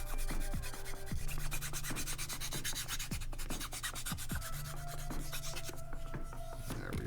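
Sanding flash off the edge of a plastic part from a Polar Lights 1:1000 USS Defiant model kit, with repeated short rasping strokes in a steady back-and-forth rhythm, close and clear.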